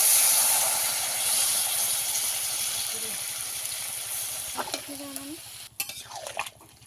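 Winter vegetables sizzling loudly in a pan, a steady hiss and crackle that slowly softens as water is poured in, with brief stirring clinks near the end.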